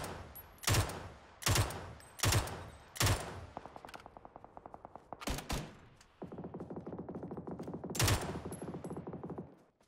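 Loud PUBG rifle fire from the Mutant or M16: several heavy single shots and short bursts early on, then long rapid automatic strings with echo, ending in another sharp blast amid steady fire.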